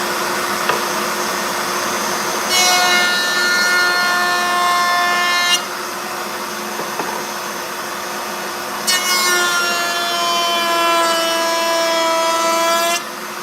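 Power tool chamfering the sides of a wooden piece in a workshop, cutting in two long passes with a whining tone over a steady background hum, alone and fairly close.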